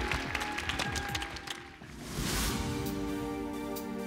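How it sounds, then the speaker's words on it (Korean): Studio audience applause on a Korean televised singing competition, a crowd clapping under loud stage music with sustained tones and a swell partway through. "큰 박수로 정해주십시오."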